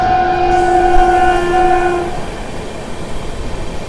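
The Hyderabad–Nizamuddin train passes through a station without stopping, its loud horn sounding for about two seconds before giving way to the rumble of the train rolling by.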